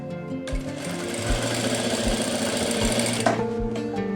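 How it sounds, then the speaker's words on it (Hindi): A sewing machine stitches fabric piping onto a kurti, a steady fast whirring run of several seconds, close and clear, with soft thumps at the start and end. "अब हमने फिर वैसे ही सिलाई लगानी स्टार्ट कर देनी है जैसे हम पहले लगा रहे थे ऊपर से"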